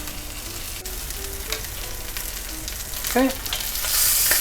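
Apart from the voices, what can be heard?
rack of lamb frying and sizzling in a pan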